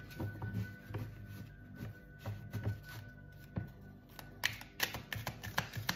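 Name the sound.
oracle cards being shuffled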